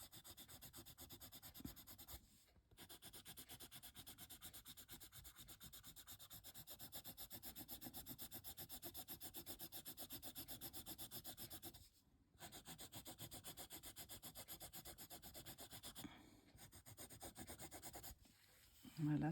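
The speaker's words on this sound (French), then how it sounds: "Je vais repasser un peu le burnisher." A Derwent burnisher rubs back and forth over a coloured pencil drawing of hair in quick, rhythmic scratchy strokes, close and faint, pausing briefly a few times.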